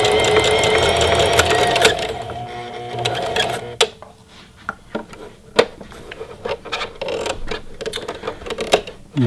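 Singer Heavy Duty sewing machine stitching, a fast rattling run for about two seconds, followed by scattered clicks and knocks of the mechanism at close range.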